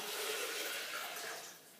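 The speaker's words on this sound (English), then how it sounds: "And now I put the water in there. It's a liter of water" A liter of water pours into a blender over lumps of ginger, a close, steady splashing gush that tapers off near the end.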